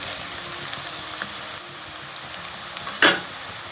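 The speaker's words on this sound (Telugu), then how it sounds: "1 స్పూన్ జీలకర్ర వేసిన. అది కొంచెం 1 నిమిషం వేగిన తర్వాత మిగతా వేసుకోవాలి." Cumin seeds fry in hot oil for a dry eel fish curry, a soft steady sizzle heard up close, broken by a few faint clicks and a brief louder clatter near the end.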